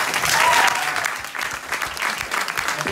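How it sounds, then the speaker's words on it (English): Warm applause from an audience at a company founder's talk, a full and sustained round of many hands clapping that is loudest at the start and then settles into an even patter. "Can we give a warm applause for them,"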